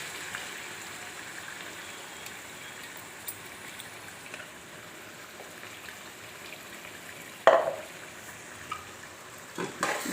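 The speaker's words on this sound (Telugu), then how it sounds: "దీన్ని కొంచెం ఈ నూనెలోనే కొద్దిగా వేగనిద్దాం" A ground paste of coconut, poppy seeds and tomato fries gently in oil for a chicken curry, a faint steady sizzle with a few louder pops and clinks toward the end.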